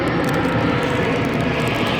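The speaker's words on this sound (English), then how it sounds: "Sorry about the airplane." Airplane passing overhead, a loud, steady engine roar filling the whole short stretch with no other sounds.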